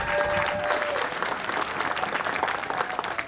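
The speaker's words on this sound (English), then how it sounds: "I think y'all deserve a round of applause" Steady, full applause from a community crowd at a ribbon cutting for a community center in Mattapan, many hands clapping together at close range for several seconds.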